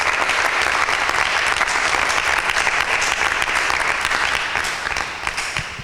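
Loud, steady audience applause fills the room at a Bible quiz show after a contestant answers correctly, dense clapping continuing alone for several seconds and tapering slightly at the end.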